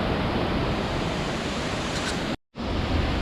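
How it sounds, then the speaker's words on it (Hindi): Jatiapat waterfall in Keonjhar, Odisha, reached by a jungle trek, roars as a loud, steady broadband rush of falling water, close and continuous, with a brief dropout near the end and no speech. "यहीटा देखी दिखाँ वाटरफॉल"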